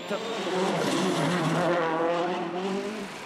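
A 2008 WRC rally car driven by Sébastien Loeb roars past at speed, engine note rising and holding close and loud for several seconds, with a voice over the engine.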